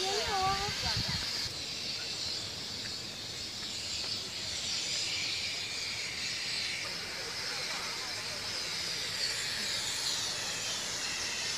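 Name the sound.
steam hissing out of the ground in a geothermal area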